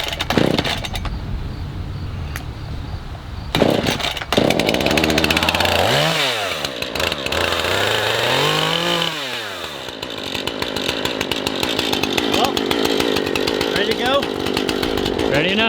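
A chainsaw roars to life after a few pulls, revving up and down loudly and close by, then running steadily at high speed during tree removal.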